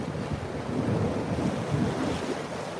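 Ocean waves break and churn at Jupiter Inlet beach as a continuous close roar of surf, mixed with gusty wind buffeting the microphone, with no voices.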